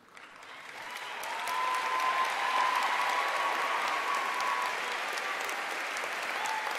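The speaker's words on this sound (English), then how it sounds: "Let's give them a round of applause." An audience at the Northwood High School 2014 graduation breaks into applause, swelling quickly from a few claps into a broad, sustained roar of clapping with faint cheers from a large crowd.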